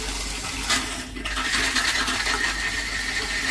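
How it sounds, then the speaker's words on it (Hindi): Water runs from a household tap at low, faltering pressure, a steady rushing splash that briefly drops out near the one-second mark before surging back, close and fairly loud with no voices. "रुक रुक के पानी आ रहा है।"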